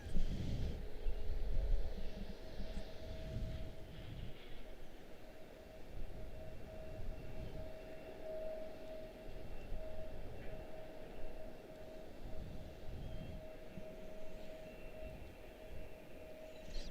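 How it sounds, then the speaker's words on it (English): An airliner, Brickyard 3520 arriving from Raleigh Durham, touches down at Washington Dulles with a steady, broad roaring rumble that swells early and then holds evenly, with no voices. "That is Brickyard 3520 out of Raleigh Durham touching down there"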